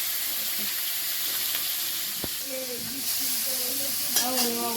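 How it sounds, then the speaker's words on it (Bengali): Fish fries in a pan with a constant loud hissing sizzle that fills the whole stretch, while a voice talks faintly underneath. "ওই মাছগুলো আগে ভেজে নিই"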